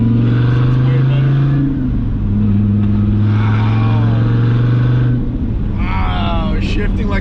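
A Dodge Viper ACR with a new exhaust idles with a deep steady drone, then its pitch shifts and climbs in short blips, loud and close.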